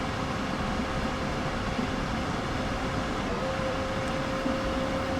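Electric DB BR112 locomotive running on the Hamburg–Lübeck main line in the game Train Sim World, a steady loud drone of motor and rail noise with a constant tone, no voices.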